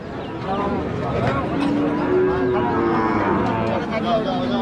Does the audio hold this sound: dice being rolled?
no